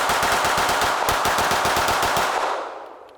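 A Canik Rival pistol emptying its magazine in a rapid mag dump, a fast loud string of shots in close succession that ends abruptly and tails off into room echo.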